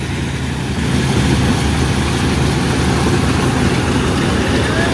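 A Gurmeet straw-combine harvester with its cutter running gives a loud, steady low engine drone that holds without pause throughout.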